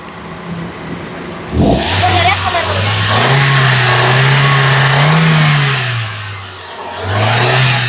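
A 2013 single-owner Hyundai i10 car engine is revved close up, rising sharply from idle into a sustained, wavering rev before dropping and climbing again, loud and dominant with someone talking over it.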